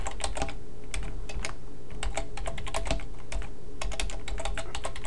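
Rapid, uneven keystrokes on a computer keyboard while an HTML doctype is typed, steady clicking bursts with brief pauses, close and fairly quiet, with no voices.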